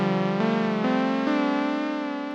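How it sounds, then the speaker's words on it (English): A sustained synth note played through a Julianna chorus/vibrato pedal in vibrato mode, loud and close, stepping up in pitch a few times while holding a rich, buzzy tone. "Now if I go back to vibrato mode,"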